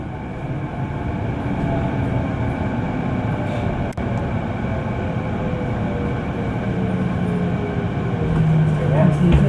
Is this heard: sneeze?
no